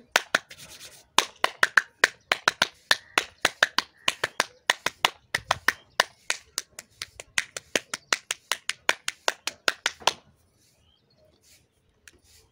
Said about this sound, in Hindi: अब एक बार फिर आप हाथों को ताली से